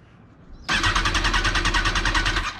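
A 2005 Kawasaki ZX10R sport motorcycle with no fuel pump cranks without starting: after a quiet moment a loud starter whirs in steady, rapid pulses for about two seconds, close up and with no voice.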